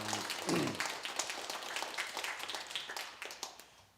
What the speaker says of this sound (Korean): 우리 하나님께 감사의 박수 다시 올리겠습니다